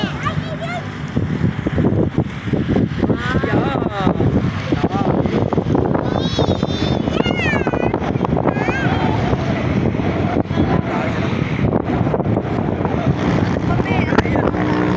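Wind buffets the microphone at a children's birthday party in a constant low, rough rumble, with voices talking in Filipino underneath.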